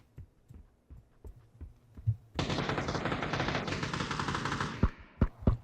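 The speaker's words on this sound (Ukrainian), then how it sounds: "Як вони там стріляються? Вони ще з глушниками." Video game gunfire from suppressed weapons in PUBG: scattered single shots, then a sustained burst of rapid automatic fire lasting a couple of seconds, followed by a few more separate loud shots.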